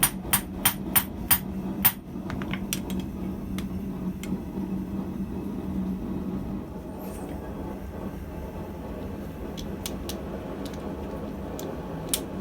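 A blacksmith hammers a radius onto the working end of a steel fuller, starting with a quick burst of sharp, ringing anvil strikes before the blows thin out into scattered taps over a low background hum.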